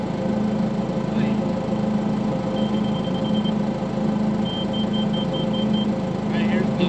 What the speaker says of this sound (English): I left the engine running, so the audio ain't the greatest